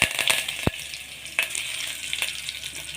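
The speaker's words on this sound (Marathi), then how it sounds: "जिरे आणि पाच सहा पाकळ्या लसूण घेतलेला आहे तो टाकते आणि कढीपत्ता" Cumin, garlic cloves and curry leaves with mustard seeds sputter and sizzle in hot oil, a steady crackling fry broken by a few sharp pops, close and alone.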